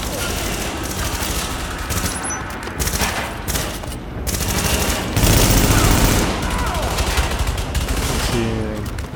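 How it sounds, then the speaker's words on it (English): Sustained bursts of automatic gunfire with scattered single shots from a firefight in The Division, set at the Russian Consulate, loud and dense throughout, with voices talking over parts of it. "You're getting shot from below"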